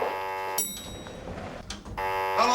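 A malfunctioning elevator's buzzer sounds as steady harmonic tones, sustained at the start, broken by a gap of low noise, then resuming near the end.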